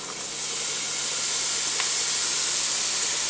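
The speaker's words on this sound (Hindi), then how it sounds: "इनको छोटा छोटा काट लिया है और अब हम इसको मसाले में डाल के भून लेंगे" Chopped eggplant frying in masala, a steady close sizzle and hiss that runs without a break.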